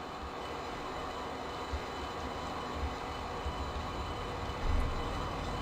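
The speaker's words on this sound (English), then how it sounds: "I think the TGV Euro Duplex, or Daisy Duplex, or whatever you want to call it, I think it sounds better in open rails" A TGV Euro Duplex train in the Open Rails simulator gives a steady rumbling roll of wheels and traction noise, with a few soft thumps, continuous and fairly close, with no talking.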